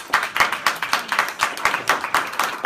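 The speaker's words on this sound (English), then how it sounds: "we need to give a really big applause to Maisa" Applause for an event organizer at a WTH15 gathering: a small group's clapping with distinct, fairly regular hand claps, close and moderately loud, with no voices over it.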